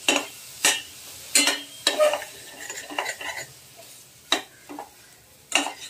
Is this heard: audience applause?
no